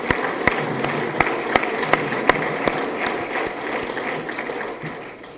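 An audience at a college State of the College event applauds the HR department, with steady claps sounding at an even rhythm and fading slightly toward the end.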